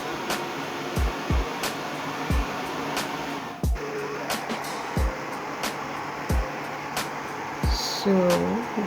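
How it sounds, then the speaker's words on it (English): A blender runs continuously on frozen papaya, orange juice and coconut milk, giving a steady loud motor whir with regular low thumps as the frozen chunks knock around the jar. "then I'm going to blend it until it is smooth"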